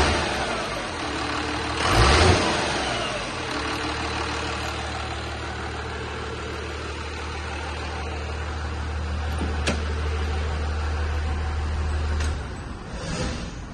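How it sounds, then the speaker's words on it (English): A Cummins diesel in a Sweptline truck runs with a loose exhaust and a major boost leak, a loud steady low rumble with a hissing, rattly edge and a brief rev near the start. "sounds like the exhaust is loose and we have a major boost leak"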